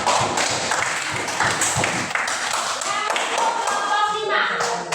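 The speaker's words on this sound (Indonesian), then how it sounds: "Silakan beri aplaus kepada teman." Classroom applause for a student group, a steady patter of many hands clapping at close range that fades slightly toward the end, with a voice speaking briefly over it.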